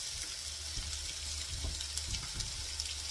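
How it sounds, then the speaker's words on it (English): Bacon cooks in a pan with a soft, continuous sizzle and hiss over a low rumbling background, steady and fairly quiet with no talking. "A bacon in the pan, cooking away nicely."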